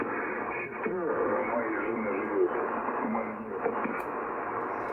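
A radio receiver on a loop antenna plays thin, band-limited broadcast sound, with muffled voice-like tones and hiss shifting steadily as the gain control is turned.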